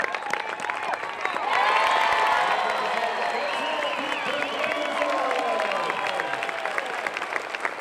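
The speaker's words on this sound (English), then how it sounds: "she drew the crowd to their feet." A stadium crowd at Rhodes Stadium rises to its feet, cheering and applauding in a loud, sustained roar of many voices that swells after the first second and holds steady.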